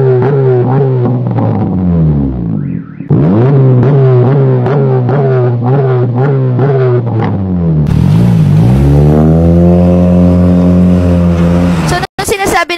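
The engine of a Honda City fitted with an HKS Burn Tip free-flow muffler revs repeatedly, loud and close, each rise and fall of the exhaust note clearly heard, with a sharper, raspier burst of revving near the end.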